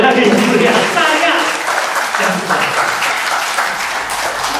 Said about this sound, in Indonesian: Tepuk tangan sekali lagi.